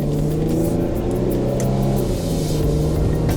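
Infiniti G35 coupe engine revving steadily through manual-mode gear changes, a loud continuous low rumble with a rising and falling pitch and no talk over it.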